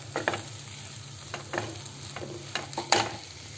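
Suji halwa with cashews, raisins and almonds being stirred in a pan, a handful of soft scraping strokes at an uneven pace over a faint low sizzle.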